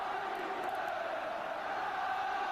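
A football crowd at a Spurs versus Swindon match roars steadily as a free kick is lined up, a dense, continuous wash of cheering voices with no single shout standing out.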